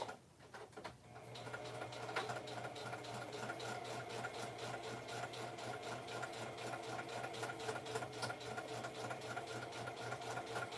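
A Singer Heavy Duty sewing machine stitching close by, starting after a brief moment and then running in a fast, even mechanical chatter of rapid needle strokes over a steady motor hum, with no talk over it.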